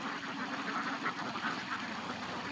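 Ducks raised in a pond enclosure in the Chalan Beel wetland of Natore quack in a dense, continuous flock chatter close by, steady and busy throughout with no talking.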